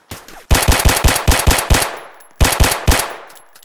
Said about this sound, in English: See, look, working guns.